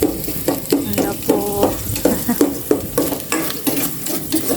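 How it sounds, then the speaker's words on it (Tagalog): Sliced onion and chili sautéing in a pan with a steady sizzle, broken by repeated scraping and stirring strokes of a utensil against the pan at a close, moderately loud level, with no talking. "Sibuyas and sili. Slice din. Nagisa-gisa na po ni Mamang maigi."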